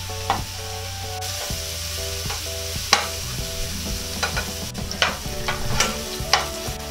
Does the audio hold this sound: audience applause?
no